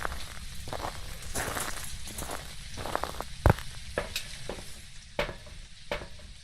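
Soft footsteps of a ghost in a video game, rendered quieter than usual, shuffle and scrape in an irregular run of light, muffled thuds over a constant rustling, sizzling noise bed, with one sharper knock partway through.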